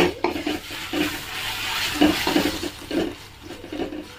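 Ginger garlic paste goes into a pan of fried onions for a prawn fry, giving a soft steady sizzle with a few louder stirring scrapes and bumps, close and without talk.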